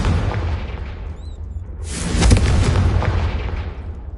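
Confringo blasting spell going off in Hogwarts Legacy, a single deep booming explosion after a brief magical whoosh, loud and close, with a rumbling tail that lingers to the end.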